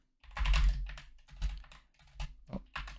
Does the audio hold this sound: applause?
no